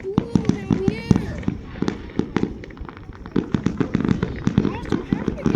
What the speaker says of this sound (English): This might be grand finale because all the fireworks are really blue in the air.